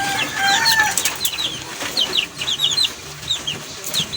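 Chicks peep in quick high chirps inside a backyard scratch pen, their calls scattered and overlapping over a low outdoor background, fairly close and continuous throughout.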